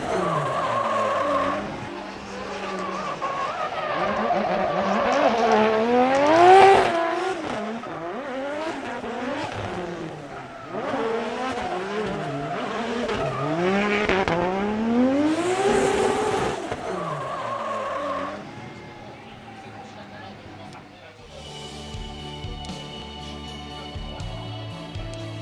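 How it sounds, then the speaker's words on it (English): A Toyota 2JZ-powered drift car at a short Formula Drift Japan qualifying track in Shiga, its engine roaring loudly with rising and falling revs alongside tire squeal, then the engine fading as another engine note takes over near the end. "So you can hear that 2J roar."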